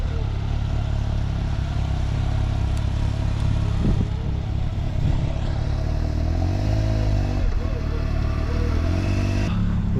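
A 2024 Can-Am Maverick X3 RS Turbo RR side-by-side runs with its turbo engine, a loud, close, low rumble that holds steady with some clattering and slight revving swells and no talk.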